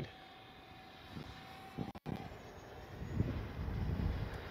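An Arrows RC 50mm Viper electric ducted fan model jet flying, its thin whining fan tone steady at a distance, with wind buffeting that swells toward the end.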